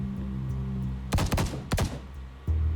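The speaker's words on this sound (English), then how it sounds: "Uh-oh, more gunshots" Gunfire in the horror video game The Bookwalker: a quick burst of sharp, loud shots, then a second cluster about half a second later, rising over a steady low ambient drone.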